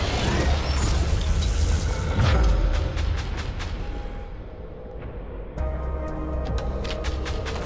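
Missiles explode in the VR shooter Ghost Signal, making a loud, dense roar of blasts and deep booms. Rapid clicking mechanical snaps run through it, with a short drop in intensity midway before the clamour surges back.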